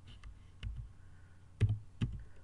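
Computer keyboard keys pressed for a paste shortcut and Enter: a few soft, separate clicks, close and quiet, with no talk over them.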